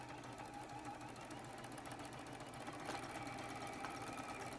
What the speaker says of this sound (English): using a 1/4 inch seam allowance, we're going to sew these 2 patches and complete our 4-patch